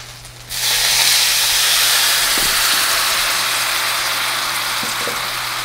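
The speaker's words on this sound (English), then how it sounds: "I want to deglaze the bottom of the pan, pick up all the good stuff that's stuck to the bottom." Pomegranate juice poured into a hot pan to deglaze it, bursting into a loud, steady sizzle and hiss that starts abruptly and holds, close by, with a faint low hum beneath.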